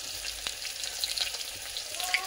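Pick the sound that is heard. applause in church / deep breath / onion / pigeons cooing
onion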